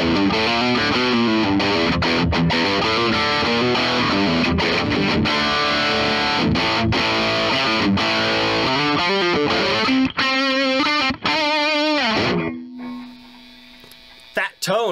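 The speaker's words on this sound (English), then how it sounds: "Let's go ahead and try some distortion." A heavily distorted electric guitar, a 2007 Gibson Les Paul 25, plays chords and riffs, loud and gritty, ending with a sustained note that rings out and fades.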